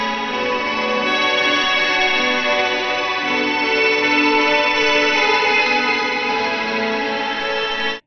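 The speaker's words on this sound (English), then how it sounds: "I'm using a hall reverb into a kind of a subtle octave up," An electric guitar runs through a hall reverb, a subtle octave-up effect, a multi-tap delay, and chorus with detuning, giving a lush, shimmering, sustained wash of sound that stays loud and steady with no talking.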